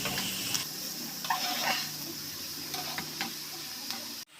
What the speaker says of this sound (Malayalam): ഉപ്പൂടെ ചേർത്ത് നന്നായിട്ട് മിക്സ് ചെയ്ത് കൊടുക്കാം